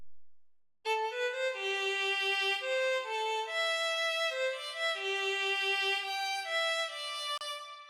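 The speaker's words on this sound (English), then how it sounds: "the violin melody I have with this, and that sounds like this on its own." A solo violin plays a flowing anime-style melody of sustained, singing notes, clear and close, with no other instruments or voices.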